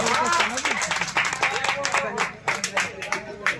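Applause welcoming the champion trophy winners at a village Sheetal Shashthi cricket final between Shirigida and Solda: a crowd claps steadily and loudly over an announcer's talk, with bursts rising and falling.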